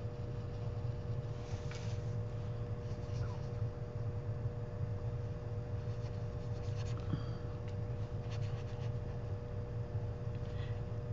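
A water brush strokes bright pink color onto paper during sticker making, giving soft, faint rubbing and scratching sounds spread across the clip over steady low background hum.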